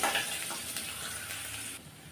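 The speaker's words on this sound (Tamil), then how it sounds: "இப்போ இதை நல்லா வதக்கி விட்டுக்கணும்" Steady sizzling of grated ginger and garlic frying in hot oil, with light stirring scrapes in the pan, close and continuous.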